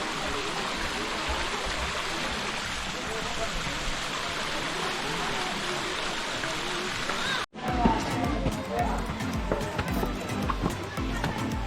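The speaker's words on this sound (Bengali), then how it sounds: "উপর থেকে ঝর্ণার জল বয়ে আসছে" Waterfall water at Panchalingeswar near Chandipur rushes down from above in a loud, steady roar, close by, shifting midway to a more broken splashing flow.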